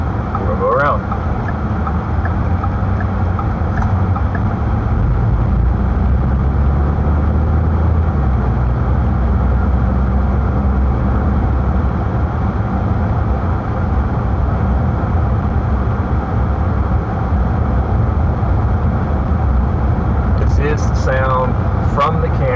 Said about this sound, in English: Sound from the camera as I'm driving.